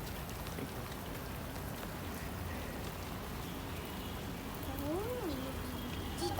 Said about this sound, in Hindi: लेट जाओ बारिश में फिर से, अन्ना अन्ना अन्ना।